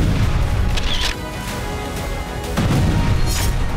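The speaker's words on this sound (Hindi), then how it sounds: "तभी उसके पीछे वाली एक इमारत पर धमाका हुआ।" Explosion striking a building in Chernihiv, heard as rough, rumbling blasts and crashing debris noise, loud and chaotic with a couple of sharper bursts, no voices.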